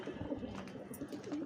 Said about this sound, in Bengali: এখানে অনেক কবুতর,